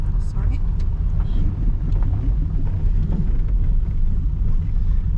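A car crowded with passengers rattling along a bumpy road in Ukraine, a continuous low rumble with bumps and jolts throughout, wind buffeting the microphone and occasional voices in the cabin.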